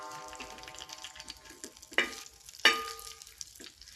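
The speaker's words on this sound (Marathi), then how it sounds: "हे सगळं मी तेलामध्ये परतून घेणार आहे." Grated coconut sautéing in oil in a pan, a soft continuous sizzle broken by a couple of sharper scraping stirs, close and without talk.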